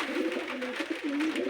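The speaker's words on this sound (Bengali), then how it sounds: "একটা হাজারিওয়ালা নসলের মাদি পায়রা দাদা" A female pigeon of the Hazariwala breed, white-beaked and white-eyed, coos in soft, continuous rolling phrases, close and alone with no talk.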